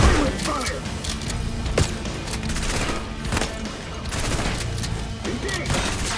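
Gunfire in the Call of Duty Black Ops 6 campaign: dense, loud automatic bursts and single shots crackle continuously, with shouted commands mixed in.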